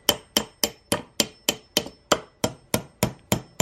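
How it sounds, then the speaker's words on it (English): A small hammer taps the end of a part being seated into a Saab 9-3 power steering pump, giving thirteen sharp, evenly spaced metallic taps close up with no talk. "Just a small little hammer just hitting on the end of it."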